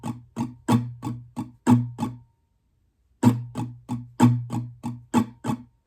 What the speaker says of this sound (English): So pattern 2 should sound like this.